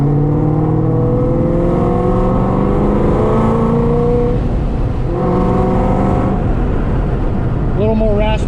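A cammed Ford Shelby GT500 cruises with its engine and exhaust droning loudly and steadily from inside the car, pitch climbing and dropping through gear changes, with brief talk at the end.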